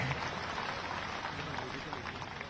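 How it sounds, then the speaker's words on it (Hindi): An audience at a political rally in Madhya Pradesh applauds, a dense wash of clapping that holds steady and close for a couple of seconds, with speech mixed in. "जरा ताली बजाओ, बहुत वोटों से जीते हैं"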